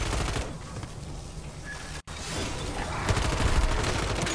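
Rapid bursts of ray gun fire in MW3 Zombies crackle close and loud, a dense string of shots that breaks off briefly, then resumes heavier with booming impacts.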